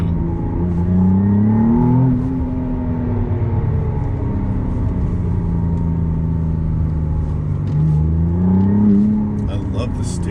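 McLaren Artura being driven on the road, its engine droning steadily with rising and falling pitch as it accelerates, loud and close from inside the cabin, with a person talking over it.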